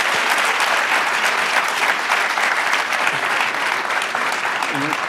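Political rally crowd clapping and cheering in continuous, dense applause that holds steady throughout with a bit of voice in the mix.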